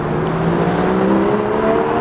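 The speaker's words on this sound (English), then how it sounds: "But Porsche drove by." A Porsche drives by close and loud, its engine giving a steady rising whir and hum that fills the whole moment with no voices.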